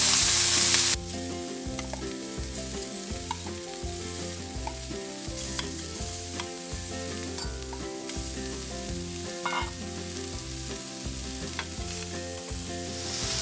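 Medium shrimp frying in olive oil in a pan, a steady close sizzle that carries on throughout with no talking.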